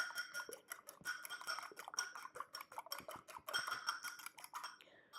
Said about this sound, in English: Now I have 3 eggs here. I'm just going to beat them just a little bit.